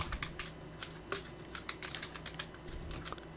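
Computer keyboard typing while setting up a database for a game server, a quick irregular run of light clicking keystrokes, close and fairly quiet against a faint steady hum.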